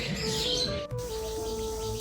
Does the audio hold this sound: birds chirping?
yes